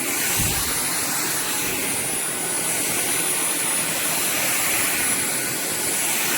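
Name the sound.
cordless stick vacuum cleaner running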